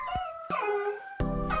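A small dog gives high, wavering whimpers that stretch into short howls, fairly close and alone, with no talking.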